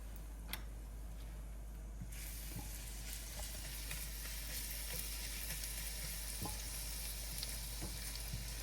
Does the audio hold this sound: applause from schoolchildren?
no